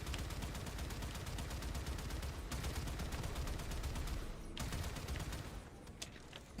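Continuous heavy gunfire and explosive weapon bursts from a Warframe space battle, with a loud sustained barrage that briefly drops out and resumes, consistent with an artillery shot being fired amid the combat.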